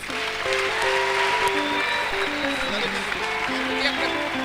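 A church congregation applauds during a worship service, with steady, sustained clapping carrying on throughout under tonal singing or music.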